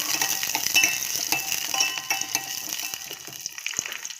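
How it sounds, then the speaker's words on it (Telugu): Green chillies torn and sizzling in hot oil in a pan, a steady bright crackling fry with small pops throughout, close and fairly loud, no talking. "పచ్చిమిర్చి కొంచెం వేగనివ్వండి"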